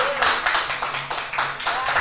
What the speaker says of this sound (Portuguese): Você pode aplaudir a Deus por esta palavra